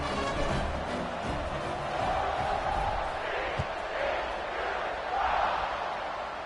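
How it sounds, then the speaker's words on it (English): A football stadium crowd buzzes after a score, a dense, steady roar of many voices that stays loud throughout with no single voice standing out. "this crowd is buzzing after that last score"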